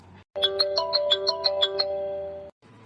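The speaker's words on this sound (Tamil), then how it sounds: "யார் இந்த நேரத்தில் எனக்கு ஃபோன் பண்ணுறது" A phone ringtone for an incoming call plays a fast, evenly spaced series of bright chiming tones, loud and close, stopping abruptly after about two seconds.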